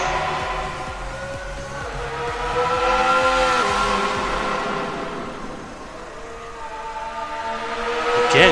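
A Lamborghini Aventador SV drives through a tunnel, its engine holding a loud, sustained, echoing tone that swells and fades, then climbs again toward the end.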